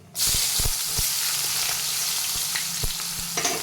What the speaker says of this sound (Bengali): পেঁয়াজটাকে একটু ভেজে নেবো আজকে